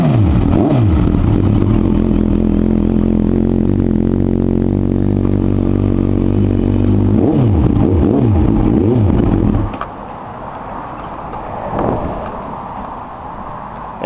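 A 2010 Suzuki GSF 650 Bandit motorcycle fitted with Delkevic downpipes revs up and down several times in close, loud sweeps, then drops abruptly to a quieter idle with a brief blip.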